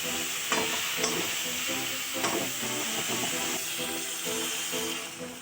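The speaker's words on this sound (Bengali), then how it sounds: "এবার মাছটা ভেজে রাখা মাছগুলো দিয়ে ভালোভাবে কষিয়ে নেব" Tangra fish, already fried, sautéed in a spice paste in a hot pan, giving a steady loud sizzle with scraping stirs throughout and no talk.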